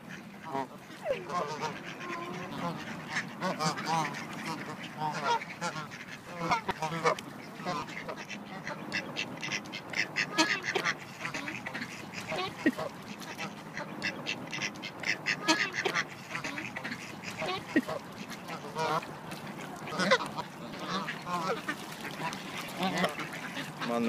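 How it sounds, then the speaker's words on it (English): Ducks quacking at a park while being fed, repeated close calls scattered throughout over outdoor background noise and voices. "feeding ducks at the park."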